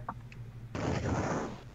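An explosion sound effect from a retro CoCo computer video game: a sudden loud burst of crackling noise that holds for nearly a second before cutting off, following a couple of faint short blips.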